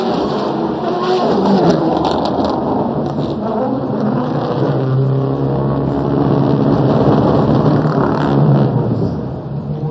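A DTM race car roars past on the circuit at the 2011 Munich show event, a loud, sustained engine blare that fills the whole stretch with dense, rumbling noise and no pause.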